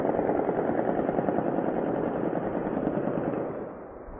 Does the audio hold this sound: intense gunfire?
yes